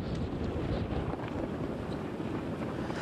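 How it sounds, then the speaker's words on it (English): Strong gusting wind in a March windstorm roars and buffets the microphone, a dense, loud, unbroken rush with no voices. "Lauren, Sherry, these gusting winds are intense today."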